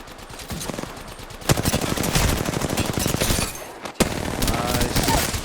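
Gunfire rattles through an online shooter match, dense bursts of automatic fire and shots blending into a loud, continuous barrage with a sharp crack near the end.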